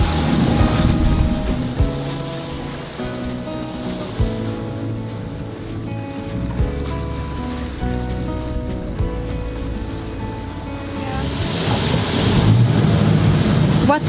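Sailboat motoring at about 8 knots into light wind off the cliffs of the Greek island of Serifos, a loud steady engine drone and hull rumble with waves washing and sloshing alongside.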